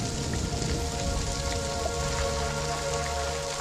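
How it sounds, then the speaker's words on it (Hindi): Heavy rain pours down steadily, close and continuous, a dense patter on surfaces with no voices. "कितनी बारिश हो रही है"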